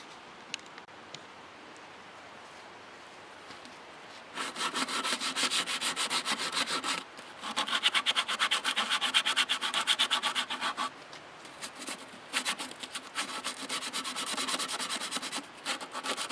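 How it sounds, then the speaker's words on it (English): Wood being sanded by hand during printer setup work, rhythmic rubbing strokes in bursts with short pauses, close and fairly loud, no talk. "We'll sand that."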